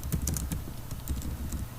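Someone types text on a computer keyboard in a quick run of close, light key clicks with a steady rhythm. The tapping lasts under two seconds with nothing else heard over it.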